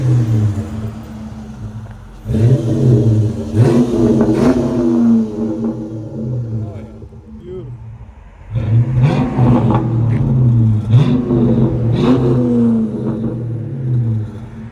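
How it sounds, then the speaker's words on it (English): Dodge Magnum RT with a 5.7L HEMI and Flowmaster Super 10 exhaust revving up close, several deep rumbling throttle blips in two groups with a quieter idle between them. "FLOWMASTER Super 10 sound."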